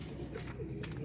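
Pigeons circle during a loft fly, soft cooing and bird sounds in a continuous low murmur over about a second, fairly faint.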